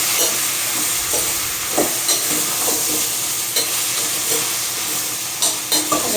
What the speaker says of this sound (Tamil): எண்ணெயில் கொஞ்ச நேரம் வதக்கணும்.